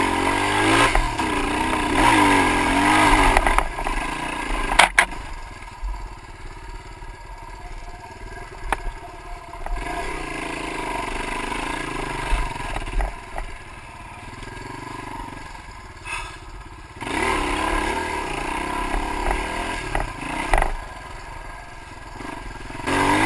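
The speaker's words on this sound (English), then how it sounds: "If you listen to the motor, you'll realize that it's actually got a fairly good grade to it." A dirt bike engine labors and revs up a graded hill on a single-track ORV trail in Michigan, a close, loud motor that rises and falls with throttle changes and clatter throughout.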